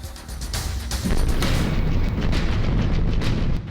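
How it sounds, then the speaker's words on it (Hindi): A powerful explosion from a Russian strike on a Ukrainian drone center in Kharkiv, heard as a heavy rumbling boom that swells and sustains as a dense roar, loud and continuous with no speech. "पलक झपकते ही एक जोरदार धमाका और पूरा आसमान आग की लपटों के साथ धुएं के गुबार में गुम हो गया"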